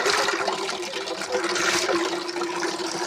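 Constant rushing, sloshing water, loud and close, as cotton kurta-pyjama fabric is swished and rinsed before stitching, continuing steadily without speech.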